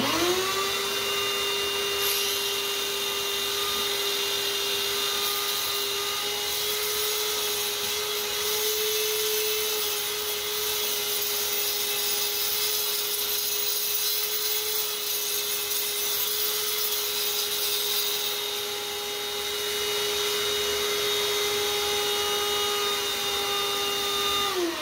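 An angle grinder cuts out tile grout while a vacuum cleaner runs alongside, giving a loud, steady, high-pitched whine that holds unbroken for about twenty-five seconds, with a brief dip near the end and no talking.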